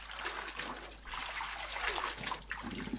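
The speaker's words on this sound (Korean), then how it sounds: "물에 2~3번 반복해서 헹궈주세요." Blanched fresh seaweed (miyeok) being rinsed in cold water, a steady close trickle and swish of water with light splashing throughout, no talking.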